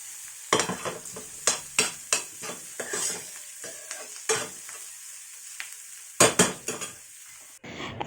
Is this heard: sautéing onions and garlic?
yes